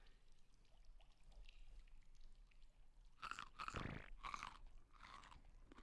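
Crunchy chewing as a character eats food in the survival game ARK: Mobile, several loud bites and munches bunched in the second half over a faint hissing background.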